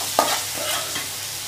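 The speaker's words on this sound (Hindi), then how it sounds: "इस तरह हमको तड़का लगा लेना है" Spoon stirring through a sizzling tempering in a hot pan as greens go in for a Chunchuniya bhaji, with a sharp scrape near the start and steady frying hiss throughout, close and alone.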